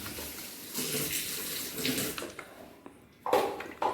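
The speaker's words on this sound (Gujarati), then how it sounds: "ચાલો તેલ આમાં ઓરી દઈ કોપરેલ કોપરેલ" Coconut oil poured into a container, giving a steady close liquid stream that trails off partway through before a brief clatter.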